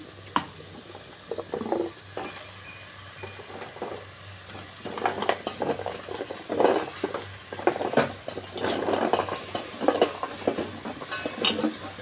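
Drumstick pieces stirred into sautéed onion and tomato in a pan for a Tamil drumstick kuzhambu, giving a soft ongoing sizzle with scraping stirs and clattering of utensils, no talk.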